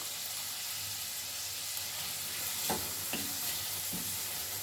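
Crushed chillies sizzling in a pot of sugar bean bredie, a loud continuous hiss close by with a few sharp spatula clicks near the end, no voices.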